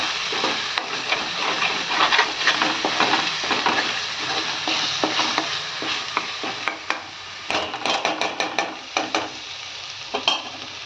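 Fenugreek seeds and spices crackle in hot oil for a Telangana-style fish curry, a busy, close sizzle broken by repeated sharp scraping stirs that grow more distinct toward the end.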